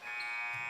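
A steady electronic buzzer drones at a high school varsity boys basketball game at the end of the half, loud and sustained without a break.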